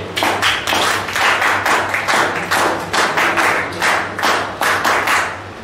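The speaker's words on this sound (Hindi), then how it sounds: "परफेक्ट आंसर, तालियां बजाइए।" A seminar audience breaks into rhythmic, sustained clapping, loud and close, with repeated rising swells of applause and no talking over it.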